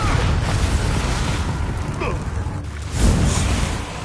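A Bombarda spell explodes in Hogwarts Legacy, a dense rumbling blast with a second swell near the end, heard over steady battle noise and game voices.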